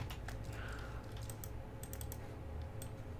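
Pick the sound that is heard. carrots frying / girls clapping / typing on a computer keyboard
typing on a computer keyboard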